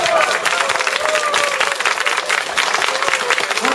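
Lively audience clapping at a lecture, a loud, continuous wash of many hands applauding close by, with a few voices faintly mixed in.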